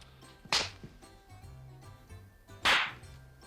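Two sharp, loud slaps from the film Moonstruck crack out about two seconds apart, the second longer and fuller, over quiet background.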